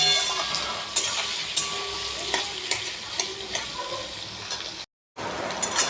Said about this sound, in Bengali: এর সাথে পেঁয়াজটাও আমি ভেজে নেব।